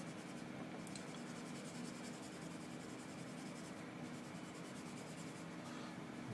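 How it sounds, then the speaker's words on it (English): Steady pencil shading strokes rasp across paper in a sketch of a chair, a continuous close scratching texture with no talk. "this time I'm moving my pencil in a 90-degree"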